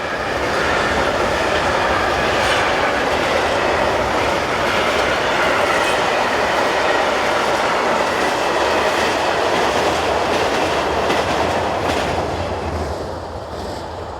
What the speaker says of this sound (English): The train here is number 65111, the 1102 mixed freight from Žilina to Košice.